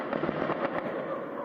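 Rapid gunfire during a security forces encounter with militants, a dense crackling volley of overlapping sharp reports that continues steadily throughout, loud and without pauses.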